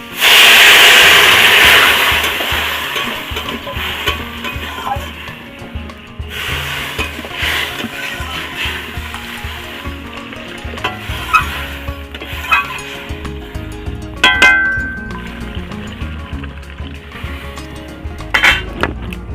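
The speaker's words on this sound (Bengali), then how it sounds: "আর ঝোলেতে আমি পরিমাণ মতন জল দিয়ে দিচ্ছি।" Water pours into curry frying in a pan, a loud hiss at first that settles into steady sizzling with scraping and stirring, close up and without speech.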